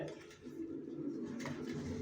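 Racer pigeons coo softly in a loft, low murmuring calls close by with faint background noise and no talk.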